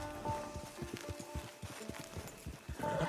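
Steady clip-clop of a horse walking in Red Dead Redemption 2, evenly spaced hoof beats close by and moderately quiet over soft ambient game sound.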